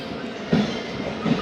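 The Karachi Express passenger train runs on Pakistan's railway with a steady, loud rolling rumble and a couple of heavier wheel thumps as the carriages pass over rail joints.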